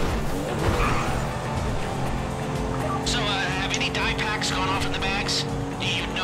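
A car driven in GTA Online on PS3, with a steady engine drone and tyre squeals and skids breaking in partway through, while players talk over it.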